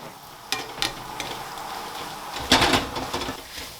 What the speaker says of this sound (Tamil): இது நல்லா முட்டை குக் பண்ணப்படட்டும்